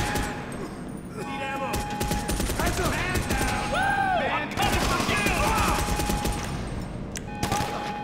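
Bursts of gunfire in the video game GTA Online during a Chop Shop robbery mission, rapid shots fired in clusters over game sounds, with someone talking over them.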